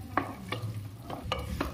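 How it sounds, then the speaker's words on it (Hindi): A chickpea curry (chhole) being stirred in a frying pan, with about five distinct scraping strokes spaced across under a steady background sizzle, close and fairly loud. "और इसे मिक्स करेंगे।"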